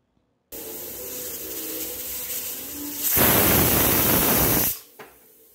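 A pressure cooker holding chicken biryani on a high gas flame hisses steadily with released steam, then bursts into a louder, harsher whistle-jet for about two seconds before cutting off abruptly.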